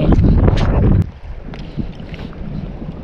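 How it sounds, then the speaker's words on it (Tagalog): Strong wind out on the water while fishing from a small boat. A loud gust buffets the microphone for about a second, then drops to a lower, uneven rushing with small bumps and splashes. "Malakas ang hangin, lumalakas."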